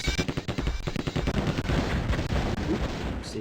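Sustained automatic fire from an Uzi and an assault rifle in the shooter Terminator Future Shock, dense, loud and close, running almost without a break.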